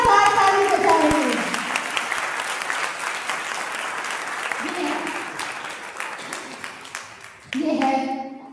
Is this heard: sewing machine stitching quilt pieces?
no